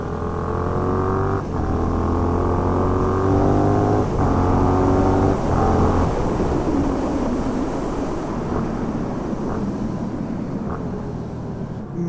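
A Yamaha MT-07 motorcycle engine and exhaust drone steadily while riding down a road, with a few brief shifts in pitch, then a rougher, windier roar toward the end.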